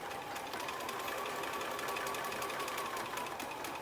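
A sewing machine stitches a pleated fabric mask, running in a steady fast whirring, clattering rhythm at close range from start to finish.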